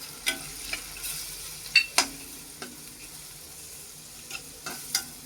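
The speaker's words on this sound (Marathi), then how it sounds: "परतून घ्यायचा हा मसाला." A masala of garam masala, coriander powder and turmeric is sautéed and stirred in a pan with a soft sizzle. A spoon scrapes in sparse, distinct strokes, some louder than others, with no voices.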